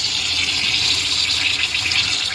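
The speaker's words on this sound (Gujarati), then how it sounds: "એટલે પાણી જવા માંડ્યું" Water rushing out through an opened valve into a maize field on a farm, a steady, broadband gushing that runs unbroken and fairly loud for the whole clip.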